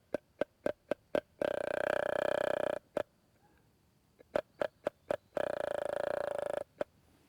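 A hunter's call mimics a rutting whitetail buck's ticking grunt, sounding as a run of sharp rhythmic clicks broken by two longer raspy throaty grunts, close and alone.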